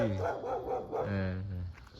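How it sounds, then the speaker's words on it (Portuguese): Dogs bark at night in the village of Paranapiacaba, a few loud, close yaps and woofs that overlap with a person talking nearby. "tem bastante cachorro à noite também"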